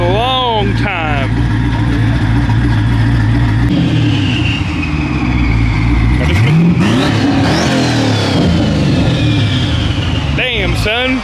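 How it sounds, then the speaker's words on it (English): A modified twin-turbo Cadillac CTS-V at a Texas muscle car show revs hard, its engine rising and falling in loud sweeps amid crowd noise and other cars, with people talking nearby. "we got the twin turbo Cadillac CTSV sounding absolutely freaking insane"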